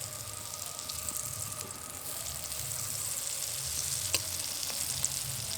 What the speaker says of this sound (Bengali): তেলে ধোকাগুলো দেওয়ার পর কিন্তু খুব বেশি নাড়াচাড়া করে নিয়ে একটা দিক খুব ভালোভাবে লাল হয়ে ভাজা হয়ে এসেছে